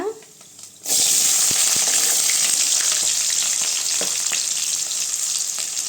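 Chopped onion hits hot oil already holding cinnamon and cloves, bursting into a loud, steady sizzle after a quiet moment and frying continuously close by for an Indian mutton intestine curry.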